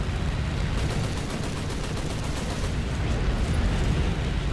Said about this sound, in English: the guns seem to do the job on ground vehicles